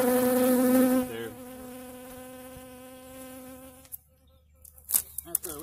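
Pennsylvania survivor honey bees being inspected in Montana give a loud, close insect buzz that holds steady, then drops away, with a few handling knocks and rustles near the end.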